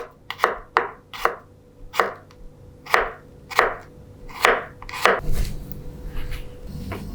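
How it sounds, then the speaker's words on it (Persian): Knife chopping garlic cloves that have been halved lengthwise, a run of about eight crisp, evenly spaced blade strikes against a board, close and clear, ending in a rougher scrape. "بعد از اون شروع میکنیم به خرد کردن سیرهامون"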